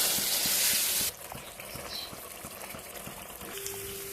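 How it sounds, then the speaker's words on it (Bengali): Marinated goat meat sautés in a pan over medium heat, giving a steady sizzle and fry. Loud, bright hissing spatter comes first, then it settles into a quieter continuous crackle with soft rhythmic stirring taps. "গ্যাসের আঁচটাকে মিডিয়াম করে মাংসটাকে সময় লাগিয়ে কষাবো।"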